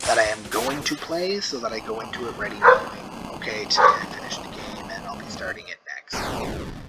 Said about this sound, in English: She's barking at my wife because my wife is cooking tacos.